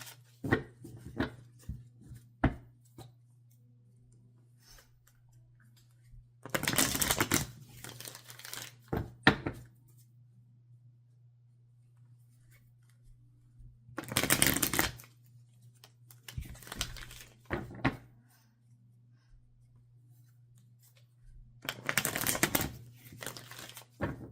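Tarot cards being shuffled up close in several separate bursts of riffling and flicking, with quiet pauses and a low steady hum in between.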